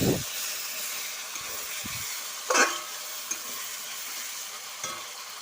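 Chicken pieces go into sizzling, well-fried masala in a pan for chicken curry, with a constant close hiss, scraping stirs and a louder sputtering burst midway.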